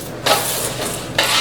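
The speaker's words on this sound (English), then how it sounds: "I'm going to dump these potatoes in this bowl with the garlic and other seasonings that we have the oil in." Potatoes tipped into a bowl holding garlic, seasonings and oil, giving two short rustling, clattering pours close by, with a quiet pause between them and no talking.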